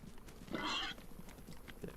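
Pig in the survival video game DayZ gives a loud, harsh squeal lasting about half a second, rising out of quieter game background noise with soft scattered thuds before and after.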